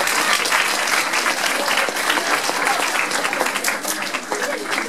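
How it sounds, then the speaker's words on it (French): A school audience at a middle-school talent show semifinal applauds a student performer with brisk, crowded clapping that stays loud and constant for several seconds. "Lucas, à toi, sous vos applaudissements, s'il vous plaît."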